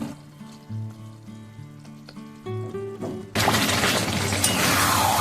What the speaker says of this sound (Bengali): আমি এবার উপর থেকে অ্যাড করে দিচ্ছি ভেজে রাখা আলুগুলো